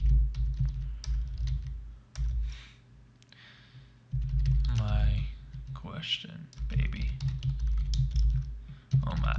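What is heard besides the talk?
typing on a computer keyboard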